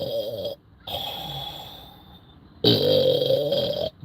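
Loud snoring from a person sleeping, two long rasping breaths with a quiet pause between them, close and alone with no talk.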